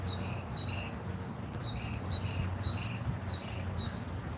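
Birds chirp outdoors with faint, high, repeated two-note calls at a steady pace over constant background noise.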